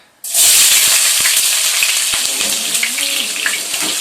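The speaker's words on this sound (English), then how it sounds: "So let's fry the veggies so that we can fry the rice." Vegetables frying in a pan for Nigerian fried rice, a loud sizzle that bursts in suddenly and holds steady, with faint clicks of stirring underneath and no talk.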